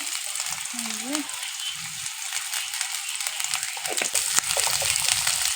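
Onions with whole cumin seeds and green chilli frying in a pan, a continuous bright sizzle with light stirring rattles, close and fairly loud throughout.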